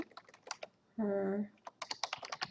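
Keys clatter on a computer keyboard in quick, close bursts, interrupted midway by a brief steady tone, with no talk over it.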